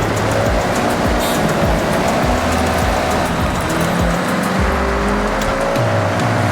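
Race car engine roaring continuously with tires squealing during a three-lap race in Forza Horizon 6 on Xbox Series X, loud and close throughout with rising and falling revs and no talking.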